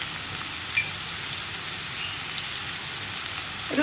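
Sliced onions with salt fry in a pan, giving a steady, even sizzling hiss close by with occasional faint pops.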